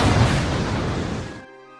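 A missile launch and explosion from an action film makes a loud, dense roaring burst that fills the clip, then cuts off abruptly near the end.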